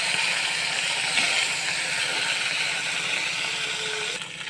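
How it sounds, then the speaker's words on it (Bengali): Fish rubbed with salt and turmeric frying in hot mustard oil, a steady dense sizzle and hiss that holds evenly and close throughout, easing slightly at the very end. "এবার আমি মাছটাকে ভালো করে ভেজে নেব।"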